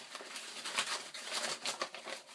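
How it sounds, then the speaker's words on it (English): A paper bag is crumpled in the hands and then uncrumpled while making a pirate map, giving a close, continuous crackling and crinkling with sharper rustling bursts, fairly quiet, with no talk over it. "you're going to take your bag and you're going to crumple it. Just like this. And then you're going to uncrumple it."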